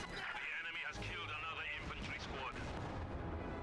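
An artillery shell striking a tank in a World War II video game, a loud rumbling impact and roar with whistling debris that fades out, under excited commentary.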